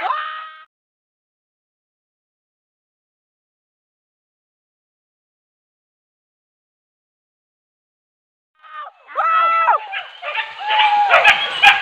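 Hunting dogs on a wild boar hunt in Jambi give a short yelp, fall silent for several seconds, then break into a burst of excited, high-pitched barking and yipping, close and loud.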